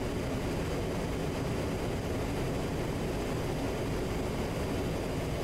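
An A-10C jet aircraft in the DCS World flight game roars as a steady, dense broadband rush of engine and air noise throughout during a tight dive, constant and alone.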